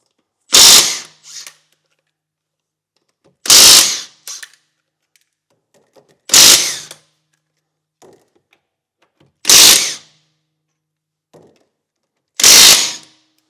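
Five loud, sharp mechanical bursts about three seconds apart, each followed by a shorter rattle, as wheel bolts on a car are unscrewed for a tyre change to winter tyres. Quiet gaps fall between the bursts.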